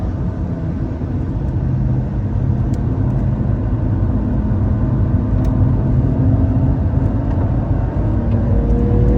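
Car accelerating on a race circuit heard from inside, a steady loud engine rumble and road roar that slowly climbs in pitch, with a few sharp clicks.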